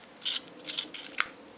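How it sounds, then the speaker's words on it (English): A small handheld sharpener shaves a makeup pencil in a few short, crisp scraping twists, close and quiet, with brief pauses between turns and no talking. "Let me sharpen this real quick."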